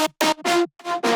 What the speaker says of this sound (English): So I automated the filter, which sounds like this.